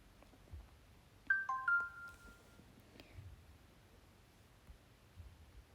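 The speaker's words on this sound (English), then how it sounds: "I have got the Xiaomi Redmi 9a and I'm going to do ringtones" A Xiaomi Redmi 9A phone plays a short, quiet tone of a few quick notes, then faint room noise.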